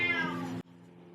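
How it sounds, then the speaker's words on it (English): A cat meows loudly and close, one drawn-out harmonic call lasting about half a second before cutting off, leaving a low steady hum behind it. "The cat has a lot to say today."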